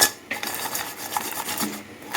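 Crispy anchovy chilli fry tossed with a metal ladle in a pan, giving short scraping clatters and rustling crunch up close.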